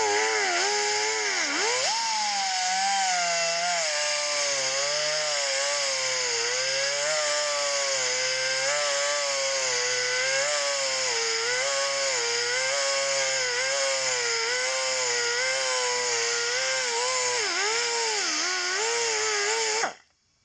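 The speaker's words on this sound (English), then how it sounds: "we're going to hit it up with the flap wheel again" A flap wheel grinds and sands the exhaust port of a KLX140 motorcycle cylinder head, a continuous high whining power-tool drone that wavers slightly in pitch for about twenty seconds, then cuts off abruptly.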